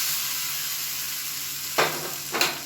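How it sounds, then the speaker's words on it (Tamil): Mustard seeds, urad dal, asafoetida and curry leaves being tempered for a South Indian chutney: a steady broad hiss of hot oil, with two sharp crackling bursts near the end. "இப்போ இதில் கடுகு, உளுந்து, பெருங்காயம், கருவேப்பிலை போட்டு தாளிச்சு அதை சேர்த்துக்கலாம்."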